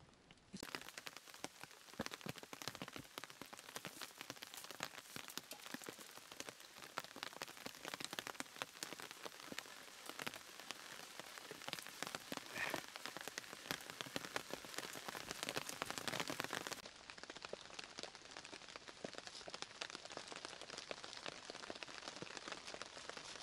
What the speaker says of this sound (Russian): И пошел дождь.